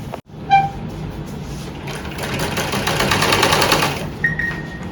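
A sewing machine stitches the pockets of a suit together, one steady continuous run that swells and then stops, close and loud with a short click before it.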